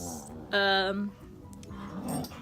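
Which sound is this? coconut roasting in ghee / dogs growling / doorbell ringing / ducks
dogs growling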